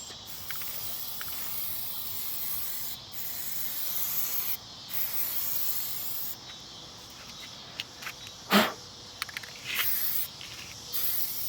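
Can of Plasti Dip sprayed onto a car grill for a seventh coat, a steady close hiss broken into several bursts with short pauses and a sharp clack near the end.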